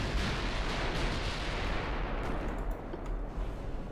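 Warship main guns firing in the Ultimate Admiral Dreadnoughts naval battle game, heard as a continuous heavy low rumble of booming gunfire filling the whole stretch, with sharper reports near the end.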